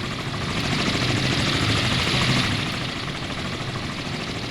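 A helicopter flies in the naval combat game Sea Power, its steady, loud rotor and engine roar holding nearly constant and swelling slightly midway, with no talk over it.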